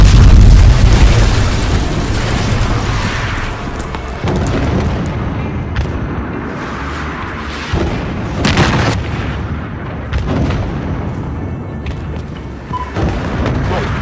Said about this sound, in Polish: Ktoś przyjebał budynek z armaty.